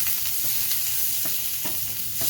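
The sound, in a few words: chunks of sausage frying in cast iron skillet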